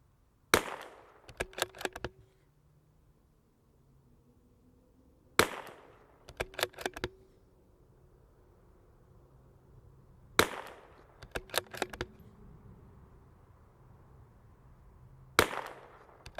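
A Tikka T1x MTR .22LR rifle fires four separate sharp cracks at near-even intervals of about five seconds, each followed by a short cluster of metallic clicks and rattles from handling, with quiet gaps between.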